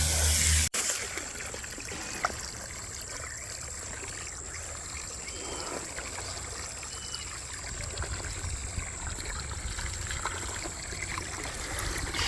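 Water runs steadily as backyard rocks are rinsed for a reptile tank, a continuous close trickle and splash lasting throughout with no talking.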